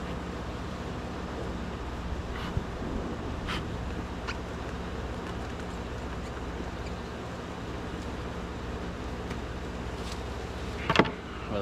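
Bees drone steadily inside a hive built into a structure on an Alabama property, a dense continuous buzz close by with a few faint knocks and taps.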